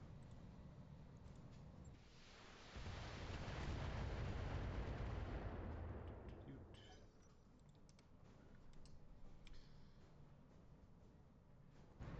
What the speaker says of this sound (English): I'll just shoot the missiles at him for now